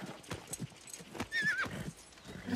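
Horse hooves clip-clop in a rhythmic, close series during a scene from Game of Thrones season 4, with a horse whinnying partway through over scattered background sound.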